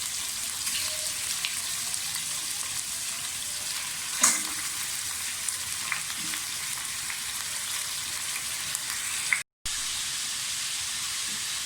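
About 1.5 kg of mixed chicken pieces frying in a pan: a continuous hissing sizzle with soft stirring clatter, one sharper clink near the middle and a brief dropout near the end.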